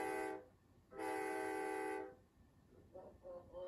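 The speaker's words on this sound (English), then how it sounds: "Here comes the train" A train horn blasts twice, the second long and steady, followed by faint rumbling and soft background noise as the train approaches.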